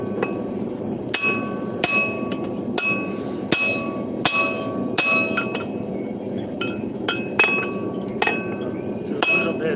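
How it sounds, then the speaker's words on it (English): A hammer forges a hammer's eye over the gap between the anvil horn and the anvil, about a dozen sharp, ringing metallic blows at an uneven working pace, close and loud over a low background rumble. "I'm trying to shift it over by forging it in the gap between these, between the horn and the anvil"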